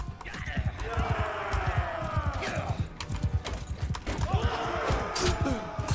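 Horse galloping in the medieval combat video game Mount & Blade 2: Bannerlord, with rapid rhythmic hoof clops throughout, mixed with battle noise and someone talking over it.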